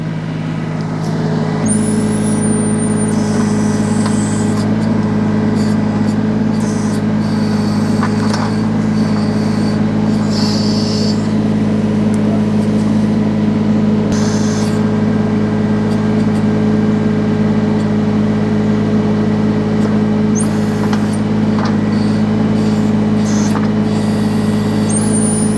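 A Solis H24 compact tractor with a backhoe, digging up stump roots, holds a loud, steady diesel engine drone throughout, with occasional brief higher-pitched squeals and clanks over the hum.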